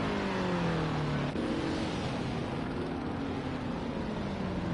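Race cars at Brands Hatch, a steady engine drone with a car's pitch falling as it passes, fairly distant and continuous with no talk.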